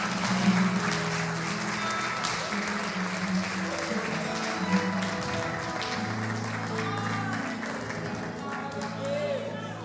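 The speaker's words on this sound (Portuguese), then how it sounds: "Quem pode dar uma salva de palmas para Jesus?" A church congregation breaks into sustained applause, loud and continuous for several seconds, with voices and cheering mixed in.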